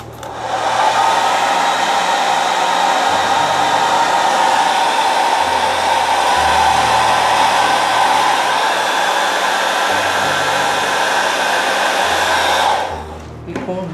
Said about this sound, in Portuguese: Vamos dar uma secadinha com o secador.